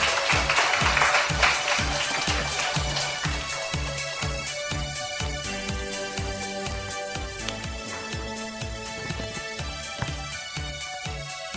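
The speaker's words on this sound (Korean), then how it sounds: "큰 박수 부탁드리겠습니다" Audience applause closes a lecture at an urban regeneration festival in Incheon. Loud, sustained clapping falls into a strong rhythmic beat, and steady music plays underneath it.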